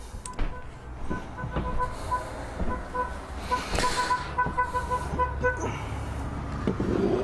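Busy street traffic heard from a front window, with cars passing, a couple of horn toots and general road rumble, steady and fairly loud throughout.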